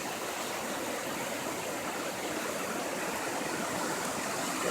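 The flooded Guadalupe River at an RV park in Kerrville, Texas, rushing in a steady, broad wash of churning water, continuous and fairly distant with no voices.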